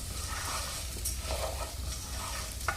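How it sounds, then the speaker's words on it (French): Rice grains stirred through hot fat in a pan over low heat for risotto with green asparagus, a soft steady sizzle with gentle scraping strokes, quiet and close, with no talking. "Je vais ajouter le riz, bien mélanger pour enrober chaque grain de matière grasse."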